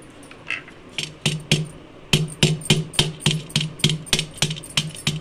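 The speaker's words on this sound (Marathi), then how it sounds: "खडीसाखर आणि मीठ थोडंसं आहे ना बारीक करून घेते" Rock sugar and salt pounded by hand in a home kitchen, a run of sharp rhythmic knocks, sparse at first, then steady and regular, close and clear with no talking.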